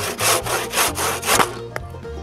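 Handsaw cutting a small sliver from a large wooden beam: steady back-and-forth rasping strokes, about six in quick rhythm, close and loud, then stopping with a couple of light knocks.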